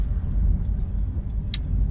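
A car pulls in to park on a street, its engine a low steady rumble close by, with a couple of faint brief clicks and no talking.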